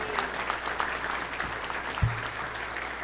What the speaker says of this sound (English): let's give a big round of applause for Kevin